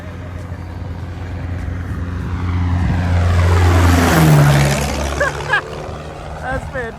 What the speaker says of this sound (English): there's an airplane comes flying over